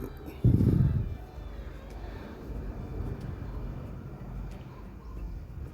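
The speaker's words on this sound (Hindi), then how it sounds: "ये केबल राइड अभी चल ही रही है लगातार" A cable car gliding along its line at Genting Highlands, Malaysia: a sharp bump near the start, then a steady low mechanical rumble that carries on without a break.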